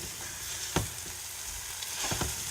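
Scrambled eggs in a frying pan giving a soft, steady sizzle, with a few spatula taps and scrapes as they are stirred, fairly quiet and close.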